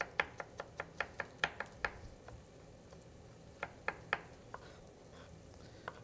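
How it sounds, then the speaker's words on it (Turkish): Crisp knife taps chopping food into small pieces on a cutting board, a quick run of about a dozen close, even strokes, a pause, then a few more scattered chops, no talking. "Ufak ufak doğruyoruz."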